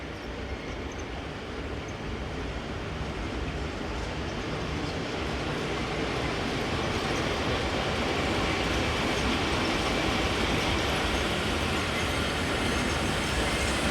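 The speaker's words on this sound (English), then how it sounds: "Sister Loco number 704 is in charge of train 5966, the 1833 from Zamadan to School Trasp." Locomotive 704 hauling train 5966, the 18:33 service from Zamadan, rolls by as a steady, loud rumble of wheels and carriages that builds slightly over the stretch, with no voices.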